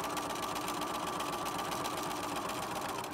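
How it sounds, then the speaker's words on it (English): A sewing machine runs steadily, stitching fabric lining for an English paper piecing starter kit, its fast, even mechanical whir and needle rattle close and unbroken throughout. "I'm just finishing off sewing my lining"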